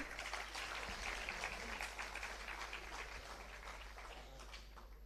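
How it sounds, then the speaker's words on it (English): Distant audience applause at a women's day celebration, a steady wash of clapping filling the room throughout, faint and even, with a low hum underneath. "So round of applause for all the women"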